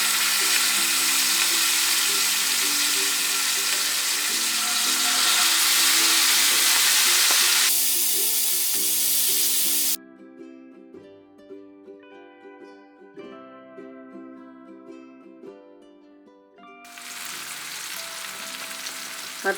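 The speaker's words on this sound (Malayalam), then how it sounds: "മത്തി നമുക്ക് നന്നായിട്ട് ഫ്രൈ ചെയ്തെടുക്കാം" Masala-coated sardines fry in hot coconut oil in an iron pan, a loud steady broadband sizzle that drops away midway to quieter clinks and light movement before the dense hiss returns near the end.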